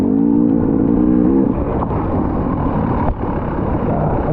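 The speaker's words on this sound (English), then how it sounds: "I give him a little throttle blip," A dirt bike engine during a hare scramble race, loud and close, holding a steady rev with a brief throttle blip near the start, then a continuous rough engine drone that dips briefly midway.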